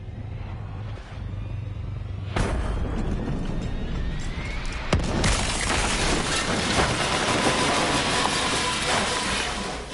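Giant explosions in a Call of Duty cutscene: a sudden heavy boom strikes, then a second sharp blast, leaving a dense rumbling roar that carries on loudly to the end.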